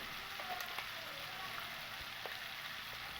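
Spice paste of ginger, salt, turmeric and chili powder frying in a pan for potol dorma, a faint, steady sizzle with light crackling pops and no talk over it.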